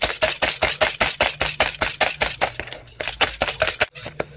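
Rapid rhythmic clicking of a whisk beating eggs by hand in a bowl, steady quick strokes, close and fairly loud, pausing briefly near the end.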